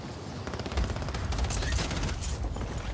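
Rapid, loud SMG gunfire in the video game Warzone on Rebirth Island, with dense overlapping bursts of shots firing continuously for a few seconds, heard up close.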